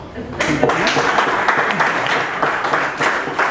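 Applause from a crowd of people, a steady wash of clapping that holds for several seconds at moderate loudness.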